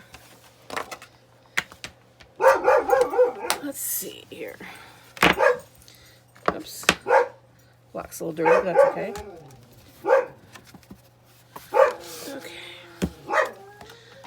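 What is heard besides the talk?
dog barking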